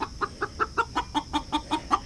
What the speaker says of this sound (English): One of the chickens is announcing something or other.